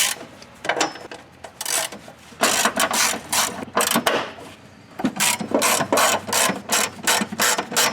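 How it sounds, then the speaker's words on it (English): A 3/8 inch ratchet with a 13mm socket loosens the battery hold-down bolts on a Chrysler Sebring, giving repeated bursts of close, loud clicking in quick rhythmic strokes with short pauses between them, no voices. "We're going to use a 3/8 inch ratchet with a 13mm socket."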